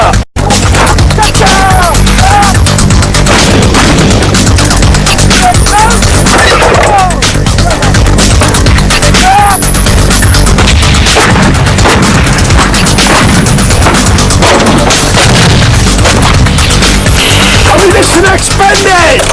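Modern artillery guns firing: dense, loud booms and blasts that fill the whole stretch, with overlapping rumble and crackle and shouted voices mixed in beneath.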